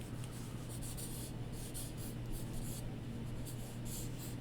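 Continuous scratchy strokes of a pencil moving across paper while copying a Norman Rockwell swimming scene, close and steady with rhythmic short pulses, no voices.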